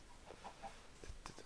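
Minecraft chickens cluck in a few short, faint clucks scattered over a low game background, with no talking.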